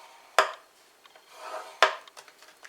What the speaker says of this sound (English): we're going to score this using our small ball end of our stylus